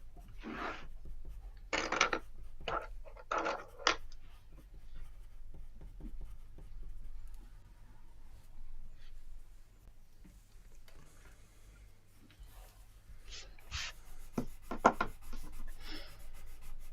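A special colored pencil scratches and rubs across paper in short bursts of strokes separated by quiet pauses, with a faint steady hum underneath.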